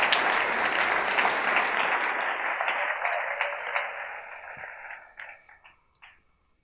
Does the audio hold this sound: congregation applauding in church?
yes